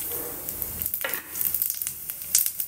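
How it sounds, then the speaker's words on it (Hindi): Cumin seeds sizzle in hot homemade ghee, a steady close frying hiss with light stirring and occasional soft clinks, and no voice over it. "जैसे घी थोड़ा सा गर्म होने लगे तो अब मैं इसमें डालूंगी जीरा"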